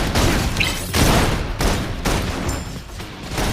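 Rapid bursts of sci-fi gunfire from the video game Love & Deepspace, loud continuous volleys in several rolling waves with no talk over them.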